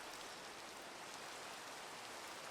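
Steady rain in Minecraft, a dense even hiss of falling drops with no breaks, moderately faint and heard alone.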